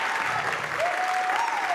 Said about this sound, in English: could I please have an amazing round of applause?